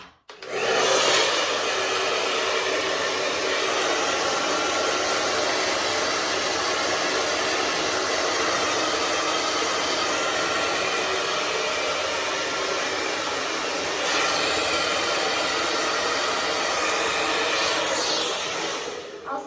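Hair dryer blow-drying natural hair at home, a steady loud close whoosh running almost unbroken for the whole stretch, with slight shifts as the airflow moves.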